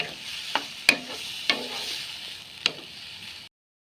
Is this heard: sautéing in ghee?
yes